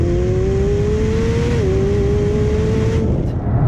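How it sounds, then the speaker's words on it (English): A McLaren 765LT V8 with a titanium exhaust revs loudly, its tone climbing, dipping briefly, then holding before backing off, heard close and dense with engine roar. "a freer-flowing titanium exhaust system that honestly doesn't sound all that great when you're just motoring around town"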